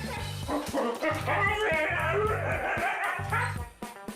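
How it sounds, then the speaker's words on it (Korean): Two Siberian huskies, excited by a leash, bark, yip and howl repeatedly at close range over a steady rhythmic backing of music. "특히 하울링까지 하며 계속해서 짖는 행동을 보였는데요"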